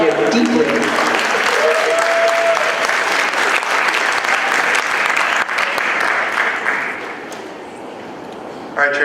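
Sustained audience applause at a high school talent show, dense clapping from a large crowd filling the room at steady loudness before easing off near the end, with a brief tonal voice or whistle early on.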